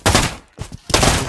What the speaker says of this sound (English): I gotta shoot him.